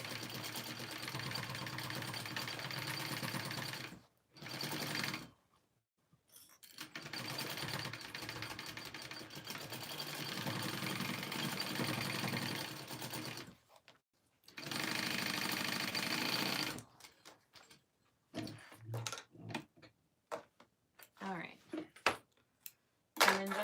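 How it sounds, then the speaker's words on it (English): Sewing machine top-stitching strap connectors, several long, close bursts of steady rapid stitching separated by pauses, then shorter stop-start runs and small handling clicks toward the end. "just top stitch that right up there"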